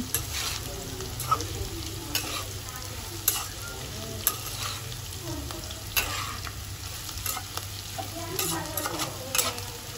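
Steady low sizzling of bitter gourd frying in a pan, with occasional scraping and tapping from stirring, fairly close and moderately loud, no voices.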